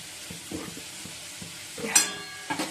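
Chicken kosha sizzles in a pan while a utensil stirs it, producing soft, fairly close frying crackle with repeated scraping strokes and a brief brighter clatter near the end.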